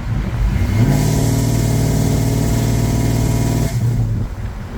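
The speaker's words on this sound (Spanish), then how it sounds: "Ahora pueden escuchar el motor con todos los silenciadores, y cuando yo abro la válvula del escape cambia bastante el sonido" A Chevy engine with its exhaust valve opened roars steadily at high revs with a loud, raspy exhaust tone, then drops back toward idle near the end.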